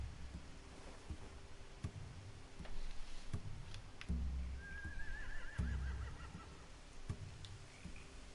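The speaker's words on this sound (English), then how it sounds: "They have horses." Horses whinny and neigh in The Walking Dead: The Final Season, Episode 3, against a steady game soundscape, with a rising whinny in the middle and faint clicks scattered throughout.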